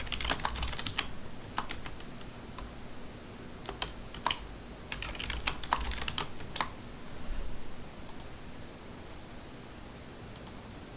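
Someone types a password on a computer keyboard, a steady run of quick, close key clicks that comes in uneven clusters over several seconds against a faint background hiss, with no voices.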